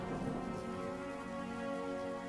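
Steady rain falling during the monsoon rice-growing season, a dense continuous wash of drops with a low rumbling undertone, moderately loud and uninterrupted, no voices.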